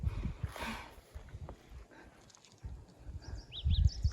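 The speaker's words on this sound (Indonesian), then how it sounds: "Itu suara burung berkicau" A few faint, high bird chirps near the end, over a soft rustle of wind through casuarina (cemara) trees on Mount Rinjani.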